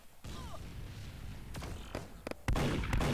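Gunfire in the Roblox game Arsenal: a few sharp shots crack out in quick bursts over a low game background, ending in a louder sustained blast.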